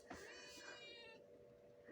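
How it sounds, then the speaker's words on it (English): A house cat gives one drawn-out meow, close and clear, rising and then trailing off, as a child picks her up. "that meow you heard then were one of kids picking her up"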